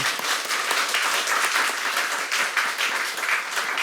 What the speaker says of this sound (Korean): 우리 다 함께 박수